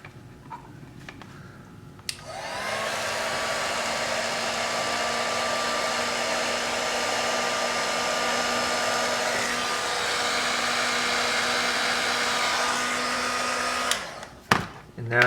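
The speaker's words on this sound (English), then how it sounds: "now I can go in and protect that connection with my heat gun" A heat gun switches on and blows steadily with a loud, even airflow roar for about twelve seconds over a wire connection on a strap, then cuts off, followed by brief handling clatter.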